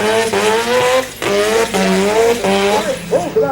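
A car doing a burnout at the 1998 Fast Fours and Rotary Nationals drag event, loud high-revving engine with a sustained tire squeal and wavering pitch, close by, with crowd noise and commentary underneath.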